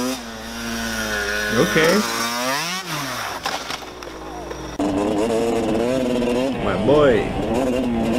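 A Yamaha TTR dirt bike engine revs on a riding track with a droning, rising and falling tone, mostly under people talking.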